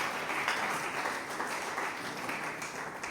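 A church congregation claps as an offering of praise, giving dense, sustained applause that stays even and fairly close throughout.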